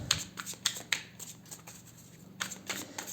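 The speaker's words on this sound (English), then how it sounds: "I'm just gonna give them a little extra shuffle" A deck of tarot cards is shuffled in a few quick, crisp riffling bursts separated by brief pauses, soft and close in a quiet room.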